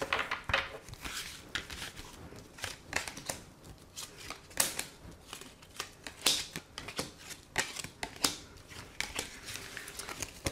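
Oracle cards are shuffled by hand for a card reading, giving repeated crisp riffling and flicking bursts in an irregular rhythm, close and fairly quiet, with no voices.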